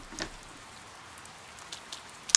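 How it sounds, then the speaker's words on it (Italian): Steady rain in the video game Persona 4 Golden makes a soft, faint wash with a few scattered drops and taps standing out against the quiet background. "Spero che smetta di piovere entro la fine delle lezioni."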